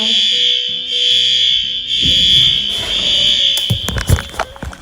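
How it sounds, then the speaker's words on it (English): A loud, continuous high-pitched fire alarm tone sounds nearby, joined partway through by rustling and clattering movement. "Is that a fire alarm?"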